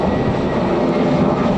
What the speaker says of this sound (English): you have planes taking off on your head like all the time